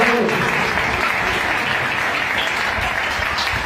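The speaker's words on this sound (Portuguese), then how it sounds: "palmas para Jesus." A church congregation applauds for Jesus during a sermon, a thick, continuous wash of many hands clapping at close range throughout.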